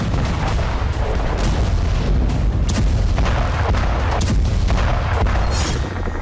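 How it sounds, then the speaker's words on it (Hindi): A Ukrainian drone strikes a tank at the Feodosia oil depot, heard from several kilometres away as loud, continuous, rumbling booms and blasts with no voices. "ड्रोन टकराते ही जबरदस्त धमाका देखा गया"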